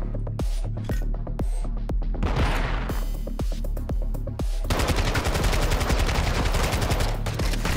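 Gunfire in Call of Duty DMZ inside a stronghold building, scattered loud single shots giving way to sustained rapid automatic bursts, close and intense.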